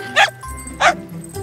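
Two short, sharp barks from a cartoon dog, spaced well apart, sound over a soft background score, with a faint third yelp at the very end.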